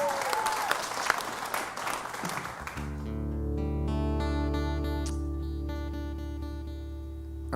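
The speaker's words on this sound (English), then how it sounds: "give yourselves a big round of applause" A concert audience claps in a lively burst for about three seconds, then the applause stops abruptly and sustained tones from a keyboard or guitar ring out alone.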